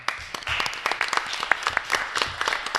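Audience applause at a town board meeting, a modest room of people clapping in scattered, uneven bursts at close range.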